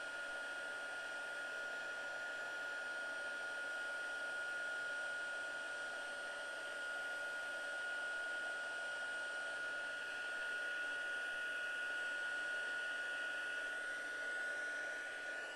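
A heat embossing tool blows hot air over stamped card stock in a continuous, even whir with a thin steady tone, close and unbroken for the whole stretch.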